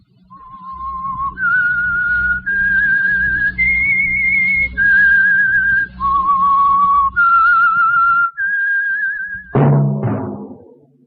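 A clear, close whistled theme tune of the 1947 radio program The Whistler, sustained steady notes stepping up and down, ending abruptly with a short clatter.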